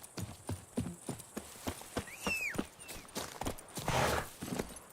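Horse hooves clip-clop in a steady walking rhythm in The Witcher 3: Wild Hunt, close and clear, with a brief whinny-like tone partway through and a quiet voice urging the horse on.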